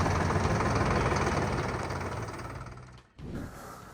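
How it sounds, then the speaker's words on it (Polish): A Solis S60 tractor's turbocharged diesel engine idling nearby with a steady low chugging rumble, which cuts out abruptly near the end before a brief rattle. "Serce maszyny, czyli silnik."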